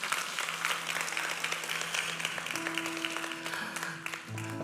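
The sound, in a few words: congregation clapping hands in church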